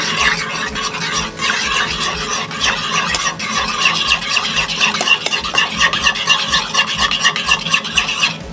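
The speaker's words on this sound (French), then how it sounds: "Tu vas venir mélanger." A spoon scrapes and swirls steadily through a homemade sauce with lime juice in a bowl, loud close rhythmic stirring that continues throughout with no voices.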